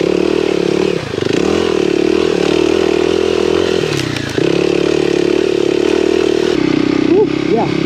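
A dual sport motorcycle, a KLX 300 or KTM 350, climbing a steep trail in winter, its engine held at a loud steady drone with brief throttle dips, close up while a rider speaks over it.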